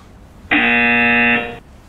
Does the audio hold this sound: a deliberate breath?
no